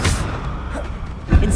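A Confringo spell blast goes off in Hogwarts Legacy, a short booming burst at the start and another dull thump near the end, with quieter game ambience in between.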